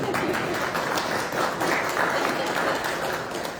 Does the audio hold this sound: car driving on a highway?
no